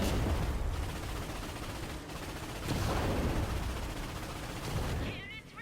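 Cannon fire at enemy ships in the Ratchet & Clank remake, battle on Gaspar/Battalia: dense, loud bursts of gunfire and booming blasts in rapid succession, swelling and easing, while someone talks over the game action.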